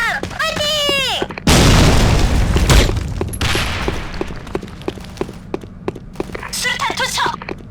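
A grenade goes off in an online shooter game, a heavy, loud blast followed by a rumbling decay, then scattered sharp gunfire cracks, with high-pitched vocal or effect sounds before and after.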